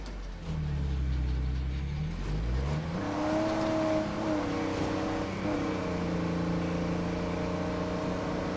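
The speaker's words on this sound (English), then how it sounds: "the engine is starting to sound a little bit rough" Rough, chugging car engine in the video game State of Decay 2, a loud continuous motor drone with shifting pitch as it revs and settles while driving.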